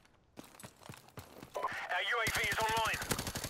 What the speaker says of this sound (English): Oh, it's that assault rifle. It's the new assault rifle.